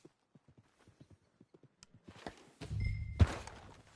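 Horse hooves clip-clop in a video game, a steady run of light, evenly spaced hoofbeats that gives way to a louder, rumbling wash of noise with a heavy thump near the end.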